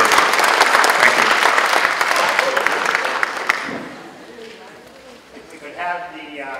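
Loud applause at a town meeting for the Turkey Hill Lions Club, a full crowd clapping for several seconds before dying away into murmuring voices and talk.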